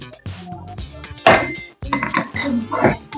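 A spoon scrapes and clinks against a metal pot as rice and water are stirred for biryani, the clatter coming in bursts while a person talks over it.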